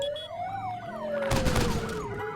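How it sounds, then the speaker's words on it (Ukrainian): A video game police car siren wails, rising and falling steadily, fairly close, with a short burst of rapid gunfire crackling partway through. "Поліцейська машина їде."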